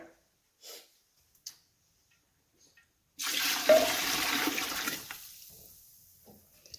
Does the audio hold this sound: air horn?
no